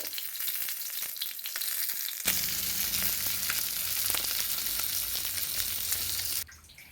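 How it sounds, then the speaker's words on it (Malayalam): Papadams deep-frying in hot oil give a loud, dense sizzle and crackle that swells sharply a couple of seconds in and holds steady, then cuts off near the end; no voices. "അപ്പോൾ നമ്മുടെ പപ്പടം മുഴുവൻ വറുത്ത് കഴിഞ്ഞു"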